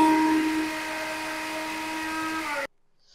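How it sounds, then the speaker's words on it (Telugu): A mixer grinder whirs loudly and steadily as it blends egg whites, its motor tone holding for about two and a half seconds before cutting off abruptly into near silence. "ఎగ్ది ఇలా వైట్ది మిక్సీ చేసాను"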